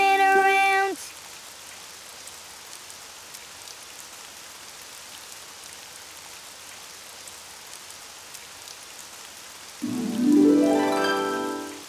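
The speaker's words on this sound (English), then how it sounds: "Oh, it's raining outside." Steady cartoon rain falls outside as a soft, even hiss of drops, framed by brief musical tones at the start and a rising musical flourish near the end.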